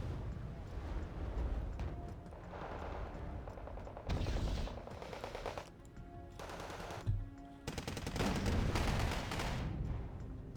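Machine gun fire in the Wargame Red Dragon strategy game: sustained bursts of automatic fire mixed with artillery-like booms, loud and continuous across the whole stretch, with brief louder bursts.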